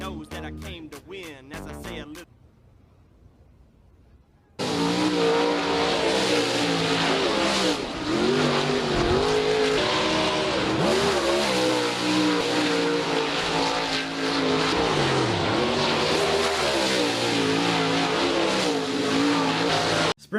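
Sprint cars roar around a dirt track, a loud, dense wall of engine noise with revving swells, starting after a short quiet gap and sustained to the end.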